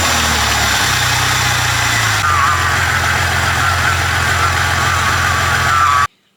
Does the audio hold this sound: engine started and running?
yes